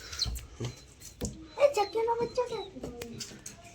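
Sparrows chirp in short, scattered bursts close by, mixed with brief bits of talk and a few soft knocks.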